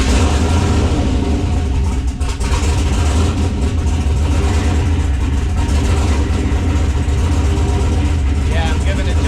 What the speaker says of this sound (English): I'm giving it just a touch of throttle